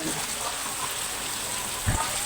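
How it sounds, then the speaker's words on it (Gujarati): Heavy rain pours down steadily outside a village shop, a dense broadband hiss with a brief low thump near the end. "વરસાદ આવી ગયો છે જોરદાર અત્યારે"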